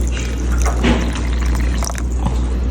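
Broth water poured into a pot at a restaurant table, a steady splashing liquid stream with small bubbling and drips, close up with a low background hum.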